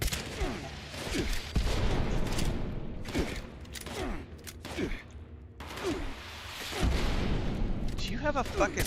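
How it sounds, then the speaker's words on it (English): Rocket launcher fire in Fallout 76, a series of sharp booming blasts with rumbling tails recurring every second or two amid other gunfire, loud and close, with voices talking over the action. "Somebody has a rocket launcher."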